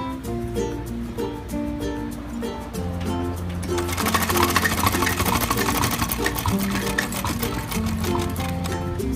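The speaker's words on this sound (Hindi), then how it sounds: "सिलाई हम बिल्कुल इसके कपड़े के सहारे सहारे लगाएंगे" A sewing machine stitches piping along the fabric edge of a designer kurti, its steady whirring rising to a denser, louder run partway through, with tonal background music underneath.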